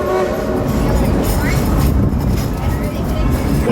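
Dollywood's steam train rolls along its track with a steady, loud rumble and clatter that fills the whole stretch, with a voice speaking over it.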